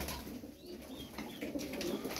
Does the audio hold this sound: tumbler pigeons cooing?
yes